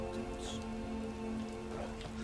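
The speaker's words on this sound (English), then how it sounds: "let's get out of the rain" Steady rain falls in the game Skyrim, a dense, even hiss of drops at constant loudness throughout, with a low hum underneath and no speech.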